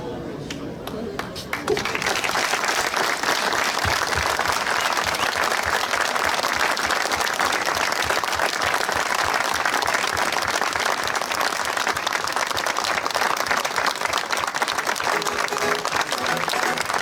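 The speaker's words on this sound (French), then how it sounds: "Mais on va l'applaudir." Sustained audience applause at an awards ceremony, loud and dense, starting after a brief quieter moment and continuing steadily throughout.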